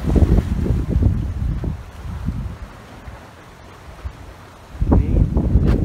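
Blustery wind gusts across the microphone at a seaside resort in Masbate City, Philippines, with rough waves offshore; loud buffeting comes in bursts, eases to a lower rush in the middle, then returns strongly at the end.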